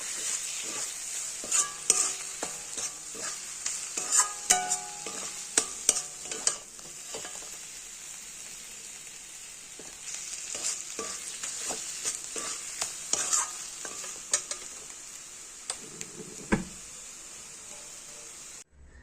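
Cabbage frying in a pan gives a constant hiss and sizzle, broken by frequent scraping and clattering strokes of a spoon stirring against the metal. The sound is close, with bursts of activity and brief pauses, and no one speaks.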